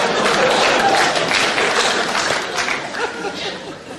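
Audience at a live stand-up comedy show breaks into loud applause mixed with laughter and chatter, the clapping dense at first and then gradually thinning out.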